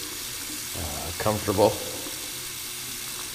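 Cold water runs from a campground sink tap, a soft steady splash that rises briefly as hands pass under the stream, with a voice speaking over it.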